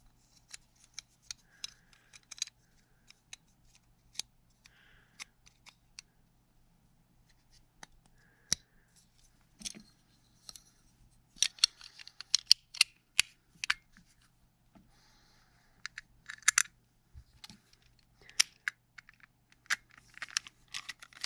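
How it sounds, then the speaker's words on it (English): A file rasping across a bone nut on a Harley Benton multiscale seven-string guitar, in short scratchy strokes that come in uneven bursts, busier in the second half, with quiet pauses in between. "Next up on the docket is going to be filing down the bone nut."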